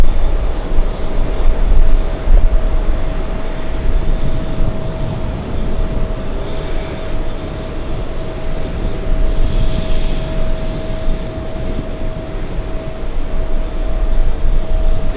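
An airliner takes off from runway 31 Left at JFK, a continuous loud roar of jet engines with a steady high whine, broad rumbling noise, heard alone at moderate distance.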